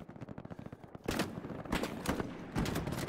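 Rifle shots from the Hell Let Loose video game on Omaha Beach crack out as three loud, sharp reports spaced about a second apart, with softer rapid clatter of distant fire in between.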